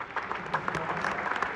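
Short burst of audience clapping at a presentation, fairly faint and scattered, with a few sharper individual claps over a soft crowd wash.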